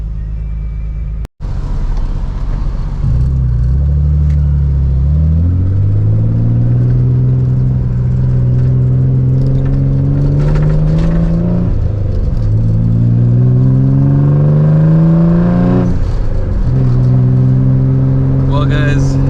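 A car with a recently repaired turn signal switch accelerates onto a freeway, its engine droning and rising in pitch through gear changes, loud and close from inside the cabin.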